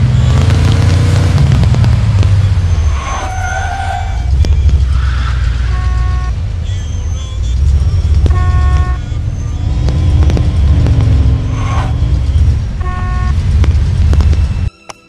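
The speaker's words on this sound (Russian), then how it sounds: "сейчас мы послушаем, как он орёт, наш автомобиль" A 1949 Mercury Taxi in Mafia II revs and roars, its loud low engine rumble swelling and easing over about fifteen seconds with shifting tonal whines, cutting off abruptly at the end.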